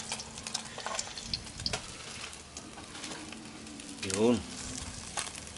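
Freshly caught creek fish crackles in hot oil with a soft, continuous sizzle, fairly faint and close, while a voice speaks briefly over it.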